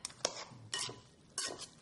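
Utensil scraping and clinking against a pot while stirring zucchini pesto pasta, three short bursts of stirring separated by brief pauses, close and fairly quiet, with no voices.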